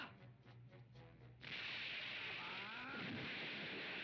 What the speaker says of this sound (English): but goddamn explosion.